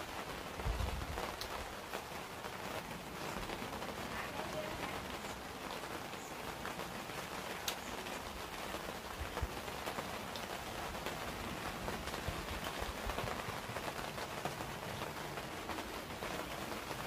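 Steady rain falls over a home vegetable garden planted with cucumbers, tomatoes and lettuce, making an even, continuous patter that holds at one level from start to finish with no voices.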